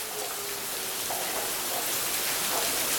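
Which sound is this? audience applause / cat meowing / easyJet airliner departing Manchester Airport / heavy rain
heavy rain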